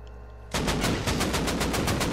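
Fast, evenly spaced gunshots from a weapon in the survival game Rust, played on console, a loud close burst of automatic fire that starts abruptly and continues steadily.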